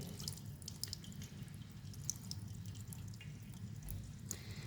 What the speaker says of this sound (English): Very gently you have to wash under tap water